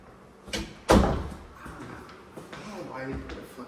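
A sliding glass door in a house rolls and thuds shut with a sharp impact, followed by softer rattles and scraping, with people talking around it.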